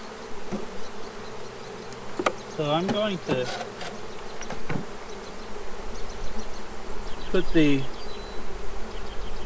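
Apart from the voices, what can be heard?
bees buzzing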